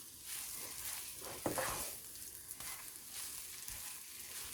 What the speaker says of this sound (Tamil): இப்படி சுருண்டு சுருண்டு கிளற மாதிரி கிளறுங்க